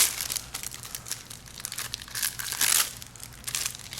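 Foil packs of Magic the Gathering basic lands being torn open, a continuous close crinkling and crackling of plastic wrapper with bursts of louder tearing, no talk.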